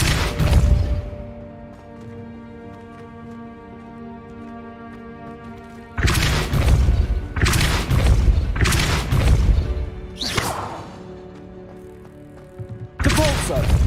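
A Depulso spell in Hogwarts Legacy lands as a series of heavy booming thuds, one early, a cluster mid-clip and one at the end, with quieter game ambience between them.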